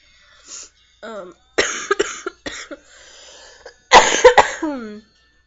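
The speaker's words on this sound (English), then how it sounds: "I'm coughing all the time." A person coughs repeatedly in short, harsh bursts close to the mic, separated by brief pauses, with a final cluster of strong coughs.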